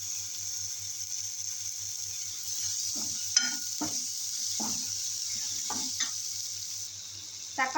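Onion and tomato sauté in a pan for cauliflower kurma, giving a steady soft sizzle with a few quiet spoon scrapes and stirs scattered through it.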